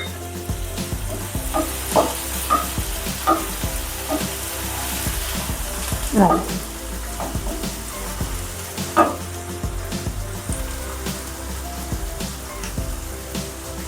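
Tomatoes sauté in a pan for a brinjal and pigeon pea curry, a continuous sizzle broken by repeated metallic clinks and scraping strokes of stirring.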